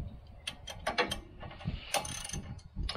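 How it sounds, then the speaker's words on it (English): A ratchet unscrews brake caliper bolts on a 2003–2006 Chevrolet Silverado during a front suspension job. Quick metallic clicking pawl bursts mix with clanks of tools, close and fairly quiet. "We're gonna unscrew this caliper."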